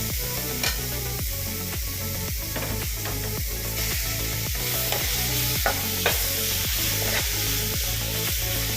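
A spatula turns tomato into fried sago, greens and onion for a sago and flattened-rice uppittu, scraping the pan in a quick, regular rhythm over a continuous close sizzle.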